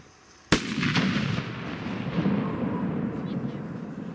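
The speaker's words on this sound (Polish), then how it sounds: "Dziwne te petardy." A firecracker goes off with a single sharp, loud bang outdoors, followed by a long rumbling echo and crackle that slowly fades over several seconds.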